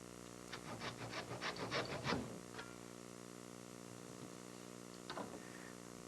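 A hand saw cutting wood for a model sailboat, with a run of quick rasping strokes in the first two seconds, a lone stroke after, then a short burst near the end; close and fairly quiet over a steady hum.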